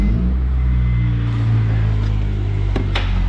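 A hotshot pickup truck's diesel engine idles steadily close by, a low continuous rumble with a couple of brief clicks near the end and no talking.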